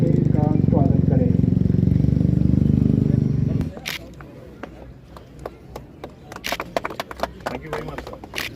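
Soldiers' motorcycle rally roaring past at a Kargil Vijay Diwas function in a Baramulla stadium, a loud dense engine drone for about four seconds that cuts off abruptly, leaving scattered claps and crowd noise.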